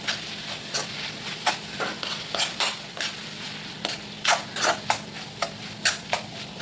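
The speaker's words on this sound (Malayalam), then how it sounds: "അതിനുശേഷം മസാലകളൊക്കെ ഇട്ട് നമുക്ക് നന്നായിട്ട് വഴറ്റിയെടുക്കാം." Mushrooms sautéing in a pan with chili powder, turmeric, coriander powder and chicken masala: a steady close sizzle broken by a dozen or so sharp spoon scrapes and stirs in an irregular rhythm, with no voices.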